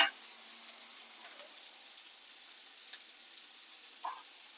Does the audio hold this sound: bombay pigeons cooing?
no